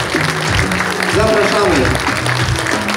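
Audience clapping at a sports dance tournament final, broad and steady throughout, with music and a voice running over it.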